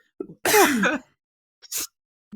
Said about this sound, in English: You just can't stop sneezing.